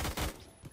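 Burst of gunfire in the Phantom Forces shooter game, a quick cluster of sharp shots in the first third of a second that then fades into a thin tail, with one faint later pop.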